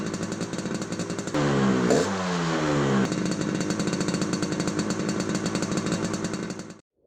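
An animated film's motorbike is ridden fast, its engine a loud, rough, buzzing drone that swells briefly with a whooshing pass and then holds steady before cutting off abruptly.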